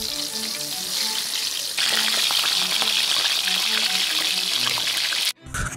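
Eggplant slices sizzle steadily in hot oil in a home kitchen, a loud continuous crackle with an abrupt clatter near the end.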